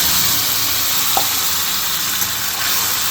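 Dried red chilies and nigella seeds sizzle steadily in hot oil in a pan, a loud, close, continuous frying hiss with a faint tap or two, no voices.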